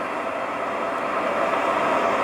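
Amtrak ACS-64 electric locomotive braking and slowing down, heard as a loud, continuous rumbling hiss of rolling rail noise that holds steady throughout, with no voices.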